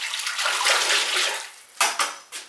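Glaze being stirred in a bucket of water for raw glazing pottery, a continuous swishing, sloshing churn that fades out, followed by two brief sharper splashes, close and alone.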